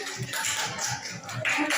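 A classroom of students gives group 1 a short burst of applause: many hands clapping in a dense, close patter that runs evenly for under two seconds.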